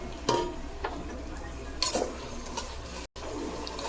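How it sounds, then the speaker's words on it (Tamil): Sliced onions, green chilies and salt frying in a pan for fish biryani, a soft continuous sizzle with a few light scrapes and clinks of a stirring utensil against the pan, fairly quiet and close. "ஒரு கால் கிலோ வெங்காயம் நாலஞ்சு பச்சை மிளகா உப்பு போட்டுக்கலாம் நல்லா வந்து ப்ரௌன் கலராக வரட்டும்"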